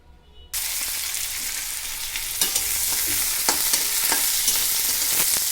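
After a brief quiet moment, onion, curry leaves and green chilli for corn upit burst into a loud, bright sizzle in hot oil, which then carries on steadily under a series of sharp spatula scrapes.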